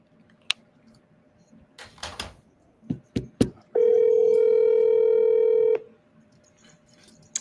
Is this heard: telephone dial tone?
yes